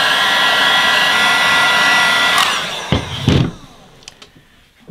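A heat gun blows a steady, loud rushing hiss while warming PVC being shaped into an axe mask, then cuts off partway through, leaving a few handling knocks and faint room noise.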